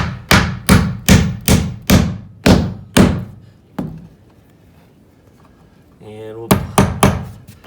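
A pneumatic nailer drives sheeting nails at an angle into a subfloor joist during subfloor replacement, a rapid run of sharp, loud thunks up close, then a pause and a second quick burst with brief talk in between.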